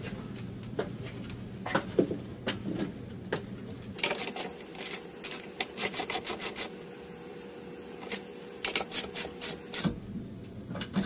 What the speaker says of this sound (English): using the 1/2-inch socket again, we will tighten this guy completely up.